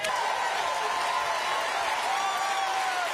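Audience applause during a political speech, a dense, even wash of clapping that holds steady and fairly loud throughout.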